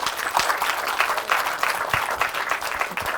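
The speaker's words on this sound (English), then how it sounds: "Round of applause," Students in an induction-program audience clap in a steady round of applause, broad and continuous across the room with no speech over it, the claps dense and evenly sustained throughout.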